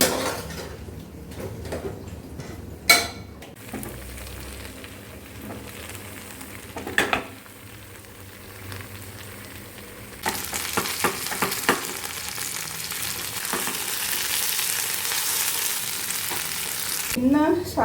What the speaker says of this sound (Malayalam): ജസ്റ്റ് മസാല വരട്ടിയിട്ട് അങ്ങനെ വറുത്തതാണ് കേട്ടോ